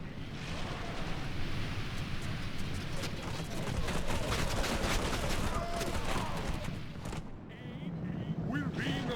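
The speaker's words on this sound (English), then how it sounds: "One of my archer units is firing at them." Archer units loose volleys of arrows during a large Lord of the Rings strategy game battle, a dense continuous clatter of impacts and battle noise with sharp transients, fading briefly near the end.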